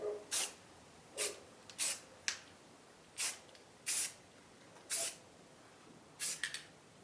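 White spray paint hisses onto epoxy ocean waves in about ten short, separate bursts, close and crisp with quiet gaps between.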